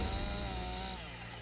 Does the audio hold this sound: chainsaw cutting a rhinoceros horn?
yes